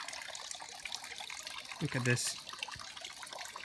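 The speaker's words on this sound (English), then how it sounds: "Water sources. You can see how significant this was in earlier edges. Cup still here. Water still running." A steady trickle of water from an old water source in an abandoned Bulgarian village, running continuously and fairly close under a short spoken remark, with a brief brighter splash partway through.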